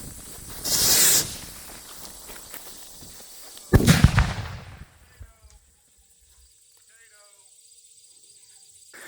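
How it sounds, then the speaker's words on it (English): A salute rocket firework stuck in the ground with a half-broken stick fires off in two harsh, roaring hissing blasts a few seconds apart, then falls to near silence with faint scattered crackles afterward. "So that was a salute rocket that the stick had broken half."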